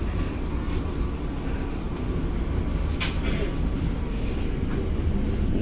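Inside car number 3 of the Menoreh passenger train, an economy car for passengers with disabilities, a constant low rumble and rattle of the moving carriage fills the space, with faint muffled voices in the background.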